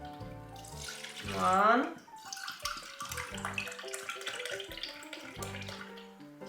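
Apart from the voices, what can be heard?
water pouring from a tap for pickling brine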